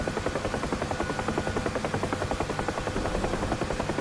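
UH-1H Huey helicopter in the DCS flight simulator, a steady rhythmic rotor thump over continuous turbine whine, loud and unbroken throughout.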